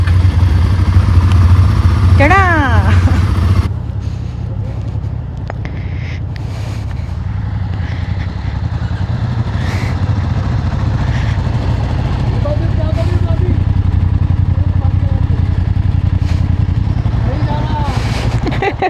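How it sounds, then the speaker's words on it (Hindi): A motorcycle outside a hotel under renovation, setting off on the last day of a ride from Kinnaur Valley to Delhi, fires up and settles into a steady, close low idle rumble, with people talking over it. "बाइक स्टार्ट करके देखते हैं"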